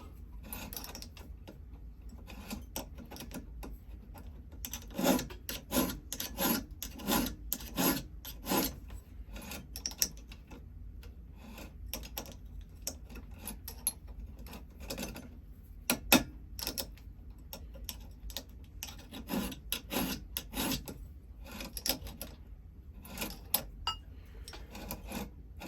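Hand file rasping across a chainsaw chain's cutters in repeated short strokes, a steady rhythm of scraping bursts with brief pauses, close and fairly quiet, with no talk.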